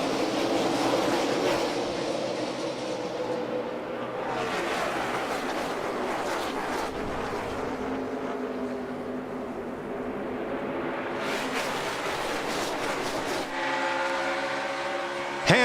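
A field of NASCAR stock cars at the 2016 Folds of Honor QuikTrip 500 roars off at the green flag, a loud, sustained engine drone that swells and shifts as the pack passes.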